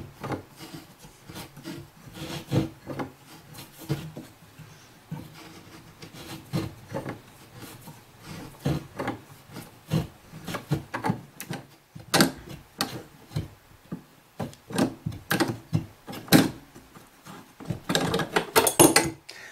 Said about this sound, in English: Now I just line up my cutter with the line.